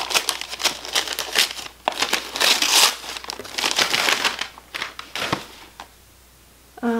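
Wrapping paper crinkles and rustles loudly in rapid bursts while a gift is unwrapped, with a short pause near the end before a brief voice.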